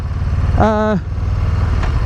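A 2023 Harley-Davidson Low Rider ST cruising on a motorway gives a steady, close engine rumble with wind noise, and a brief rising-and-falling tonal chirp passes over it partway through.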